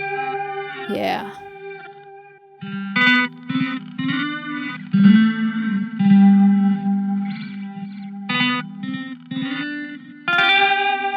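Sample run through an octave pedal and a Joyo delay pedal, giving a thick, chorused, distorted tone with echoing repeats that swell and fade across the phrase, loud and alone with no talk.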